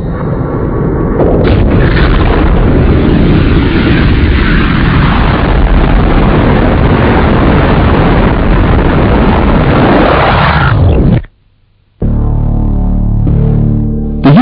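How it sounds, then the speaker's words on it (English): A massive explosion effect depicting the Big Bang: one long, very loud, continuous roaring blast with a dense rumble that cuts off abruptly near the end, followed by a low deep resonant tone. "The universe came into being with the explosion of this point."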